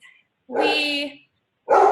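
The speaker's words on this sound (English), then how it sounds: "That's the dog." A dog barks loudly up close, one drawn-out bark followed by the start of another after a short pause.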